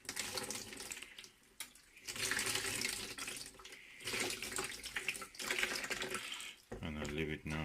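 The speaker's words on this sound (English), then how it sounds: "Taking the mirror again under the tap water," Lukewarm tap water pours from a faucet over an 8-inch Newtonian telescope mirror being rinsed in a sink, a loud, steady splashing rush with brief dips, while a voice speaks over it.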